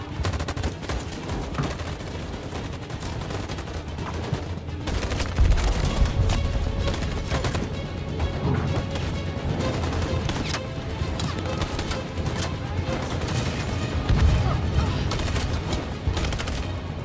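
Sustained gunfire from a story-driven android game, with rapid bursts and volleys of shots and occasional deeper booms running continuously at close range, with a voice briefly heard amid the shooting.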